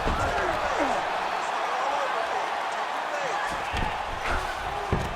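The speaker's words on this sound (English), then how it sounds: "Ground and pound strike there now." Ground and pound punches land in the UFC 5 video game, giving a few dull thuds over continuous arena crowd noise while a commentator talks.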